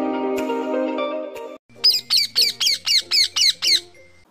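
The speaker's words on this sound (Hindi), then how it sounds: "यह है पैरट" A parrot squawks in a rapid run of about eight loud, shrill calls, heard alone and up close right after a short burst of music.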